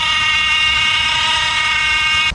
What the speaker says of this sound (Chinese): 电子节温器异响